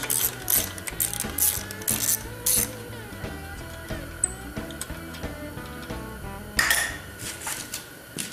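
Metallic ratchet clicks and clinks of a tool working an 8mm bolt loose on a CR500 motorcycle, close up, with intermittent bursts of ratcheting and small metal knocks.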